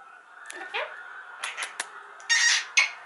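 A pet bird gives several sharp, harsh squawks and shrill bursts, some short and some drawn out, close by in a quiet indoor room, with a person's voice in between.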